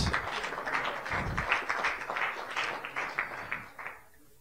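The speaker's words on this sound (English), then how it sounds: "You better clap better than that." Scattered hands of an audience at an entrepreneurship event in Lagos, Nigeria, heard as moderate applause that keeps up a loose rhythm for several seconds before fading out.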